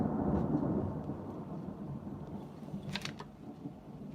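Thunder rumbles low and heavy during a storm, a long rolling boom that fades, then a few sharper crackles near the end, heard alone at a distance.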